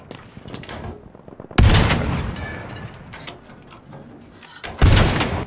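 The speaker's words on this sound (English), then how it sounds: "I love these cannons. This sounds so strong." Heavy anti-tank cannon shots from Battlefield 5 (PAK 40 or 6 Pounder), two loud booms roughly three seconds apart with rumbling tails, over a backdrop of battle noise and distant gunfire.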